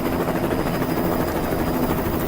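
A Peruvian air force helicopter flying over the Amazon region gives off a steady, loud, throbbing rotor and engine drone that fills the whole moment, with no voices.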